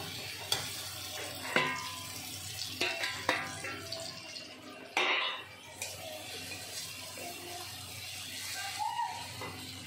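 Metal utensils clatter and scrape in a pan as fried tomato is lifted out, with a few sharp knocks over a faint, steady kitchen sizzle.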